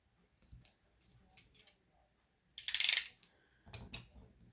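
A paper trimmer or scissors cuts paper straight for a scrapbook envelope mini album, with small clicks and taps and then one loud, short slicing stroke followed by a softer rustle, close by and with no voices.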